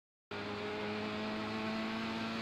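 F3 open-wheel race car at full throttle in iRacing at Zolder, engine noise cutting in abruptly after silence and holding as a loud, sustained high-pitched buzzing drone.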